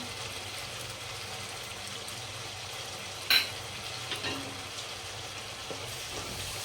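Steady sizzling of oil in a pan as coriander-cumin powder, Kashmiri chilli powder, pav bhaji masala and garam masala are stirred in, with faint scraping and stirring, one sharp metallic clink partway through.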